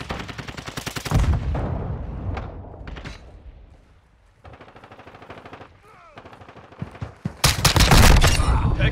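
Heavy automatic gunfire from Call of Duty Modern Warfare 2, loud and close, with dense bursts at the start and end, quieter sporadic shots and radio-style chatter in between.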